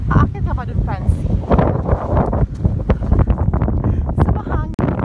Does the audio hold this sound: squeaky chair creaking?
no